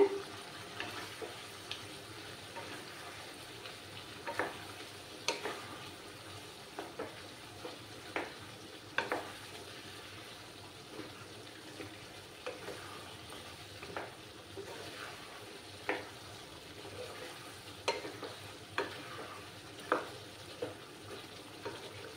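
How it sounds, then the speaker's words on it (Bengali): Mutton masala with Kashmiri chili powder sautés in a pan, a soft continuous sizzle punctuated by regular spoon scrapes and taps as it is stirred, fairly quiet, no talking. "ভালোভাবে এটাকে আরো কিছুক্ষণ আমি কষিয়ে নেব।"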